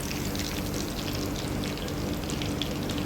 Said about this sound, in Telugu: ఇలాగ చూసారా, అన్నీ కూడా బాగా ఫ్రై చేసేసుకుందాం.